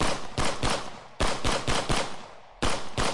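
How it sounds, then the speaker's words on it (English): Sharp bursts of rapid gunfire in several volleys with short pauses between, loud and close, echoing. "Now they are trapped there, being raked by Chinese gunfire."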